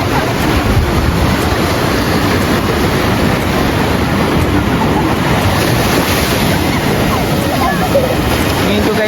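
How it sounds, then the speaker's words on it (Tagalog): Strong ocean waves break continuously at San Juan Beach in La Union, a surfing spot, a loud dense wash of surf mixed with wind roar, steady throughout without pauses. "kaya malakas yung alon dito, kaya ganyan kalalaki yung alon"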